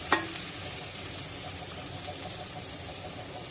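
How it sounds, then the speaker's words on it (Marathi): Onion sautéing until pink gives a steady, even sizzle throughout, with one brief sharp clink at the start and no stirring strokes after it. "कांदा गुलाबी रंग इसपर्यंत परतायचा आहे"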